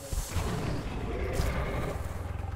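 Gunfire in Metro Last Light, a dense, roaring boom-laden burst with steady loud rumble throughout and a rapid pulsing at the end, no talk over it.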